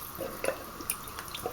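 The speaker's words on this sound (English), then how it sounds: "I'm going to add 2 of these containers of water." Water poured from a can into a pot of creamy chicken soup makes faint, intermittent splashes and drips, quiet and close with no talking.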